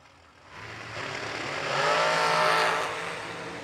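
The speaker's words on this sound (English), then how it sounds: "Couple of colorful dragsters on the starting line" Colorful dragsters launching hard off the starting line at a drag strip, engines rising to a loud, sustained roar that swells and then holds, with no talk over it.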